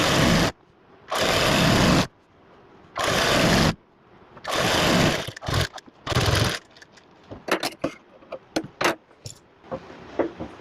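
A sewing machine stitching palazzo pants runs in several short, loud bursts of about a second each, separated by pauses, then gives way to quieter clicks and fabric handling.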